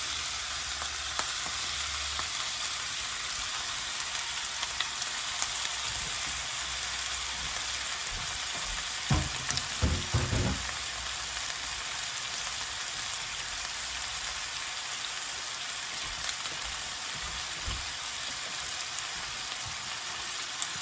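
Italian sausage and ground beef fry in a pan with a steady, close crackling sizzle that runs the whole time, broken briefly by a few louder knocks and scrapes partway through.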